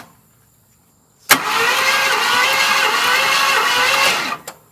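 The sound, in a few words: 1974 Ford F250 V8 engine cranking over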